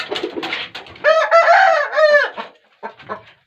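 A Brazilian breed rooster crowing close by, one loud drawn-out crow preceded and followed by short clucking calls.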